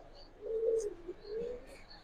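Bombai pigeons from a single home loft coo in two low, drawn-out calls, each a soft rolling phrase, close by with a few faint chirps above.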